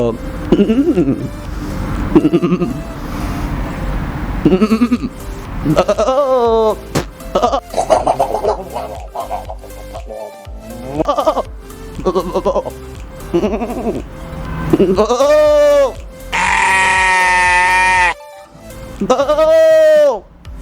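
A voice imitates a goat's bleating, giving several wavering, nasal bleats in bursts between pauses, loud and close, with stretches of ordinary talk in between.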